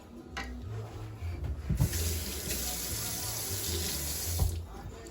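A tap runs hot water steadily, gushing into a sink for several seconds with a few clunks, then the flow shuts off.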